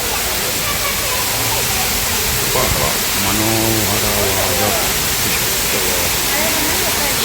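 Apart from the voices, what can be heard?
artificial waterfall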